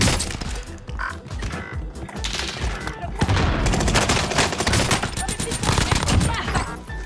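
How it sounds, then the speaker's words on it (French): Rapid bursts of nail gun fire in the video game Warzone, loud and dense, with repeated volleys and impacts layered under clipped game effects. "T'as le pistolet à clous, y'a tout le monde qui passe là."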